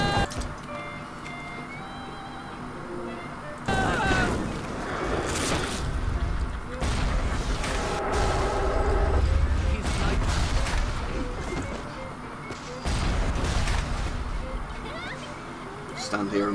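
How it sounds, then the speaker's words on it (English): Explosions and turret gunfire in Bioshock, coming as loud bursts and rattling volleys over a low droning background, with someone speaking over the action. "Stand here a moment until all the explosions stop going off."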